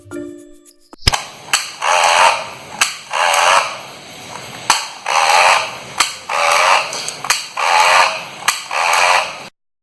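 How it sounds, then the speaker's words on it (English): An old film camera's motor, tested with fresh batteries after repair, runs in a series of short whirring bursts, each set off by a sharp click, close and loud with brief gaps between. "That sound is the motor working."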